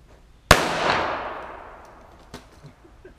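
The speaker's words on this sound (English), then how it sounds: "up next we're gonna give it a shot for my 45 caliber 1911" A single loud, sharp gunshot from a .45 caliber 1911 handgun fired at a computer monitor in a backyard, followed by a long decaying echo and a few faint knocks afterward.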